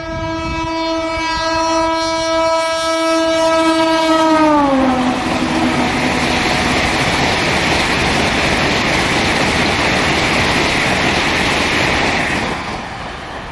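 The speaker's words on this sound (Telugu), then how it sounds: "Vande Bharat express sleeper coach trial run అయితే జరిగింది" A Vande Bharat Express sleeper train on a trial run at about 180 km/h sounds a long, loud multi-tone horn that bends downward as it passes, followed by a sustained roaring rush of wheels and cars rolling by close up.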